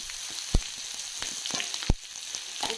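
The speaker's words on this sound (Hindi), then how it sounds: "इसको भी थोड़ी डीप फ्राई कर लेंगे" Green chillies deep frying in hot oil with garlic in a kadhai, a steady soft sizzle with a few sharp knocks of a spoon against the pan.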